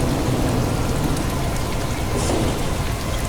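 Steady, dense rain mixed with a constant fan hum forms a loud, unbroken wash of noise with no voices.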